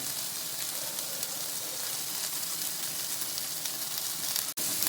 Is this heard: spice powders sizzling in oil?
yes